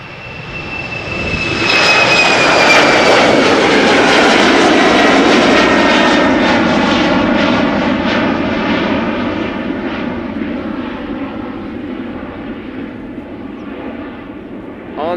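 An Embraer 190 jet departs Amsterdam Schiphol's Polderbaan runway bound for Aberdeen. The loud engine roar rises quickly with a high whining tone, holds steady, then slowly fades as the aircraft climbs away, with no talk over it.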